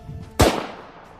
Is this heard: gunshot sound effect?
yes